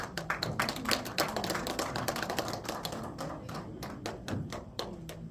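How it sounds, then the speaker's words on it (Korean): Sharp, closely spaced hand claps from an audience at a year-end forum gathering, a steady, fairly loud round of applause that carries on without a break and stays crisp and percussive throughout. "박수"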